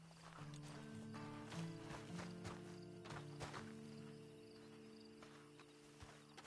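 Horse hooves clip-clop at a walking pace over steady background music, fairly close and moderately loud.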